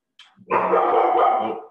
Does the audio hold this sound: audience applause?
no